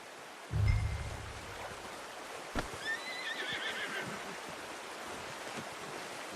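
Horse in the Red Dead Redemption video game gives a loud, close whinny early on, followed by a snort and soft hoof clops over a steady background wash of flowing water.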